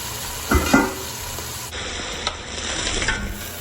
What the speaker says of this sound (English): Now I'm going to deglaze with my sherry.